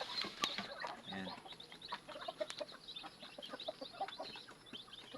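Mother hens clucking softly around newly hatched chicks, with a steady scatter of high chick peeps close by and no talking.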